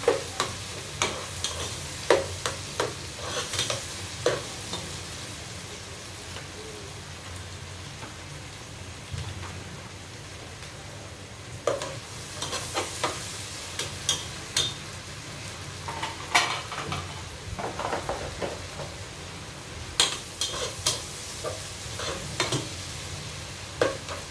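A tablespoon of garlic paste sizzles in a pan while being cooked for rohu fish with bottle gourd greens, a steady hissing fry broken by repeated scraping spoon strokes, close and with no voices.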